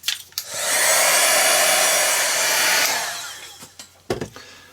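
A hair dryer blows steadily for about two and a half seconds to dry a gesso-coated art page, loud and close, then cuts off, followed by a few light knocks and handling sounds.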